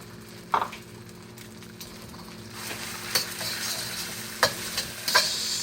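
Shrimp sizzle in hot oil in a pan for Yangchow fried rice: a steady, close frying hiss broken by occasional sharp clacks of a utensil stirring against the pan.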